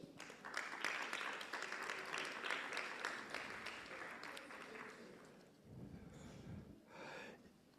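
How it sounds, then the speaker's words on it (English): An audience at a children's summit in Africa applauds with steady clapping for about five seconds, then the applause fades and voices speak. "And I think you deserve a round of applause."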